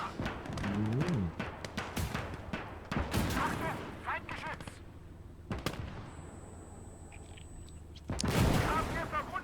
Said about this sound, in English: Another Panzer III goes up in flames as it Now gets it's shot down by the to T-34